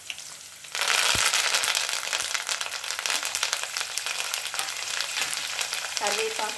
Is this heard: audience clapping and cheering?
no